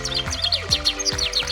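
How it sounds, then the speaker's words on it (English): Birds in a children's animal puzzle chirp in quick, bright, repeated tweets over a steady musical backing, loud and close, with no talking. "There are a lot of birds."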